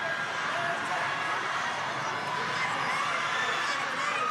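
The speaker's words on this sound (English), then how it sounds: "the North Little Rock away crowd are loud on the visiting sideline" A North Little Rock away crowd fills a high school varsity basketball gym with a dense, continuous roar of cheering and chatter, steady and loud throughout.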